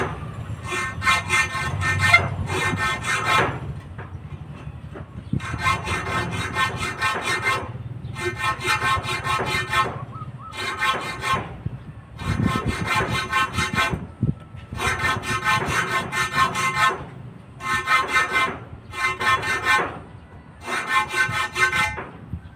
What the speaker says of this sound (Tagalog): dahan-dahan lang po lagyan nyo muna po ng gatla tsaka nyo laliman